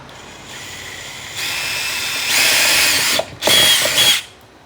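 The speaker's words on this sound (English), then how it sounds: "I'm going to drill this hole right here while holding the fender flare." A power drill whirs alone drilling a hole for a fender flare on a 2012-2017 Can-Am Maverick, rising in pitch as it bites in, pausing briefly, then spinning hard again before stopping.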